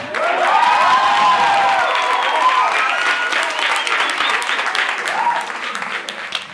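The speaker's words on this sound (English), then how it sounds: "Let's continue giving them a round of applause" Audience applause and cheering for the winner of the first African Spelling Bee, loud sustained clapping from a hall crowd with excited whoops and shouts riding over it, slowly easing off.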